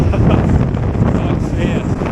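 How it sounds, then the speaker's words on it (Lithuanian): Wind buffets a microphone on a sandy beach during an E-twow Booster V electric scooter ride, a steady, loud low rumble lasting the whole clip with no break. "Toks vėjas."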